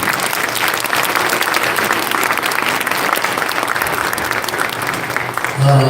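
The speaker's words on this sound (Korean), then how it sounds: "이번 박수로 모시겠습니다." A congregation at a church gathering marking the March 1st Movement anniversary applauds to welcome a pastor to the pulpit, loud continuous clapping filling the room for several seconds, with a voice briefly emerging over it near the end.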